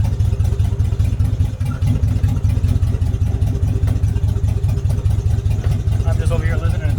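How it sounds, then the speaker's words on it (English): A 2-door Chevrolet Tahoe rolls back and forth, its engine giving a steady, loud low rumble throughout, with music and voices faintly mixed in. "just moving my Tahoe back and forth"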